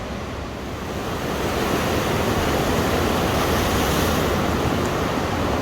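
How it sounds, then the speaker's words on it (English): Ocean waves crashing on the shore at Poris de Candelaria on La Palma, a broad continuous surf roar building slightly louder, heard close and steady with some wind on the microphone and no voices. "the waves are still crashing back there"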